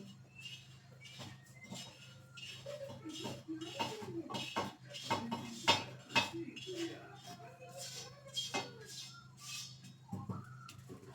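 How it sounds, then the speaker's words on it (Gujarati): A utensil clinks and scrapes against a pan while roasted turmeric is lifted out, giving a string of soft, irregular metallic knocks close by, with a voice speaking near the end. "હવે આપણે હળદર નીકાળી લેશું"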